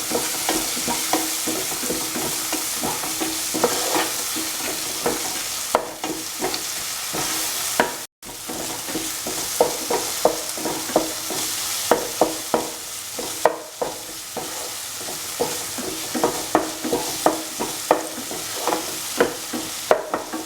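Tomatoes for dal sizzle in a frying pan while a spoon crushes and stirs them in steady repeated scraping strokes, loud and close, with no talking.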